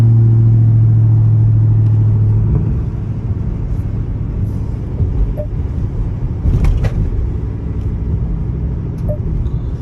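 A catless Dodge Charger Scat Pack driving in eco mode: a low, steady engine drone that eases off early, leaving a quieter rumble of cruising and road noise.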